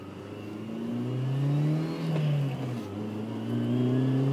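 A 1990 BMW E30 M3 engine blips and drops through downshifts, the revs rising and falling in smooth swells before settling toward a low steady idle, heard up close with no talking.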